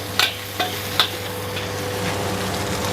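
Onion, carrot, garlic and shrimp are stir-fried in a pan with a close, loud sizzle. Three sharp spatula scrapes and clanks come early, then the sizzling runs on steadily, with no talk.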